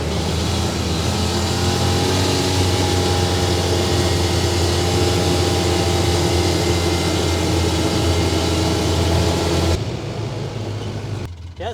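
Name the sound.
Polaris Ranger 800 AWD utility vehicle driving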